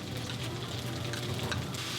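Steady, crackling sizzle of chicken frying in a hot pan for Pad Thai, fairly quiet and constant, with no talking.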